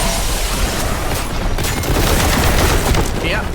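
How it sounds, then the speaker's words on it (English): Frag grenade blast in Warhammer 40K Boltgun amid dense, continuous battle noise: loud, booming explosions and rapid gunfire layered into a sustained roar with no clear gaps. "one frag grenade able to kill both of the aspiring heroes"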